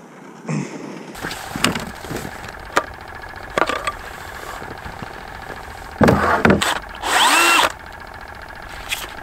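A DeWalt brushless 20-volt cordless hammer drill with a 6-inch auger whines in short bursts, boring through ice; several brief pulses, then a longer grinding run near the end, close by.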